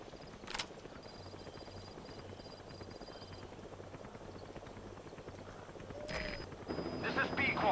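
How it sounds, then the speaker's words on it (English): Helicopter arriving in the video game Metal Gear Solid V: The Phantom Pain, a steady rotor wash and engine roar filling the scene, with scattered game sound effects over it that swell louder toward the end. "as you can hear, the helicopter came a lot quicker than the beginning of the game"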